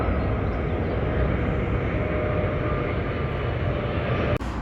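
Aircraft on the Heathrow flight path near Hounslow Heath, a steady broadband roar that holds at an even level throughout, with no talk, ending in a brief dropout near the close.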